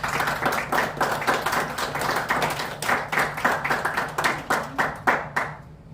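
People clapping in rhythmic bursts at a black belt stripe test, distinct sharp hand claps in quick uneven volleys close by, fading out abruptly at the end.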